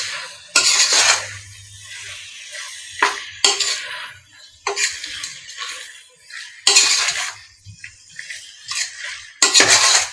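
Mint and coriander being stirred by hand into prawn biryani in a pot, with several bursts of scraping and clinking from a utensil against the metal, separated by short pauses, close and clear, no talking.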